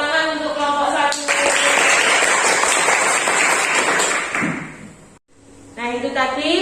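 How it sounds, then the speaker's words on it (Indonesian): Classroom applause for a student group after their presentation, a dense burst of clapping lasting about four seconds before cutting off, with voices talking before and after it. "Tepuk tangan untuk kelompok 1."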